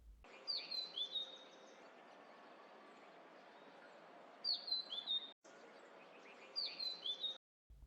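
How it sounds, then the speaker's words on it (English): Birds chirp at sunrise in Nuwara Eliya, Sri Lanka, giving three bursts of quick, high twittering calls a few seconds apart over a faint steady background hiss, fairly distant and quiet, with no talk. "birds chirping in the backdrop"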